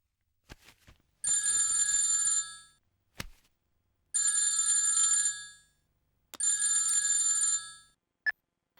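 A telephone ringing in three long, evenly spaced bursts of bright electronic trilling, each lasting over a second, with soft clicks between the rings and one short blip near the end.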